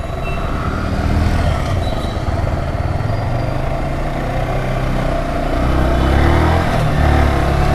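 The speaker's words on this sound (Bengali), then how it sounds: "আমার মনে হয় ইঞ্জিন হেডে কিছু কাজ আছে সাউন্ড বলতেছে" A car engine running with a noticeable vibration, likely from a problem in the engine head, during a night race; a steady, loud low rumble throughout with some revving swells near the end.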